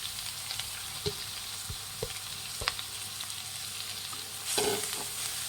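Grated beetroot fries with onions in a pan, a soft steady sizzle with occasional spatula scrapes and taps against the pan, close and quiet, with no voices.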